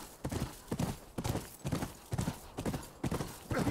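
Horse galloping in The Last of Us, rapid rhythmic hoofbeats pounding in repeated clusters, moderately close and steady throughout, with no talk over them.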